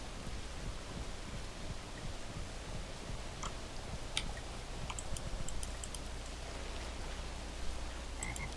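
Frogs croak in the video game Dragon Creek, a faint scattered chorus of short calls over a steady low background hum, with brief high clicks and ticks mixed in.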